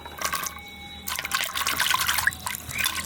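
Small local potatoes being washed by hand in water, with sloshing, trickling and light splashes that pause briefly and then resume more busily, close and fairly quiet.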